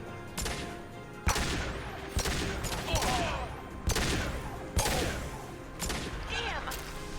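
Repeated gunshots in the Mass Effect video game: sharp broadband cracks roughly every second, ringing out over a steady background of combat noise and game music, with voices speaking between shots.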